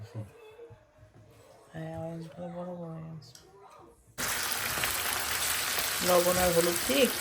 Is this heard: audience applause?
no